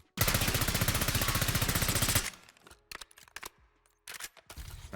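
Automatic gun firing a long rapid burst with heavy recoil in a first-person shooter game, loud and continuous for about two seconds, then scattered clicks and a few shorter bursts.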